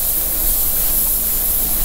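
An airbrush hisses in a steady, loud, unbroken spray as graffiti-style paint is applied to a hat, with no voice over it.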